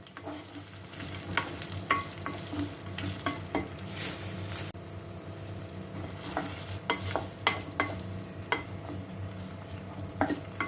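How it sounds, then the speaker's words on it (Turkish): Tomato paste and chickpeas fry and sizzle in a pan while a spoon stirs them with frequent clicking scrapes, steady and close, with no voices. "Hemen şöyle salçamı kavurdum."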